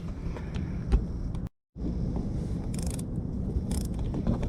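A screw driven by hand with a screwdriver into a brake assist mounting, close ratcheting and grinding turns under a steady low rumble, with a brief silent break and a few sharper clicks afterward.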